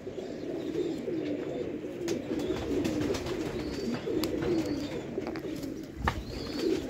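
Female quail at a quail breeder's, calling with soft repeated coos over steady low rustling background noise, moderately near, with no talking.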